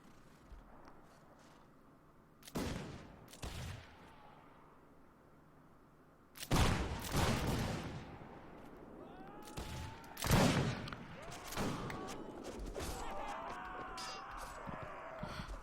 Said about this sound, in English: They're building firing lines. And they're shooting badly.